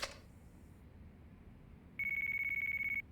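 A phone rings in the Yakuza 4 video game, one bright electronic trill that starts sharply after a quiet stretch of low background hum and holds for about a second at moderate volume.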